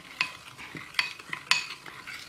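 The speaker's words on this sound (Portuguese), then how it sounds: "Agora a gente vai ficar mexendo aqui até parar com essas bolinhas aqui" Bubbling baking soda slime mixture being stirred in a bowl, giving a few soft wet scrapes and clicks of the utensil in an irregular rhythm, close and quiet with no voices.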